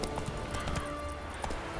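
Hooves of Geralt's horse Roach galloping in The Witcher 3: Wild Hunt, a quick steady clip-clop rhythm close by with ambient game sound underneath.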